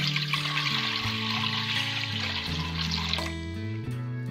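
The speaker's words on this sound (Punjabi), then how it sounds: "ਤੁਸੀਂ ਇੱਕ ਪਤੀਲੇ ਵਿੱਚ 250 ਗ੍ਰਾਮ ਪਾਸਤੇ ਵਾਸਤੇ 1 ਲੀਟਰ ਪਾਣੀ ਪਾਉਣਾ" Water poured steadily into a cooking pot to boil 250 grams of pasta, a continuous splashing rush over background music.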